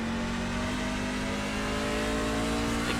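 A NASCAR Class C stock car in the iRacing sim holds a steady, moderately loud engine tone on a road course, with a slight rise in revs near the end.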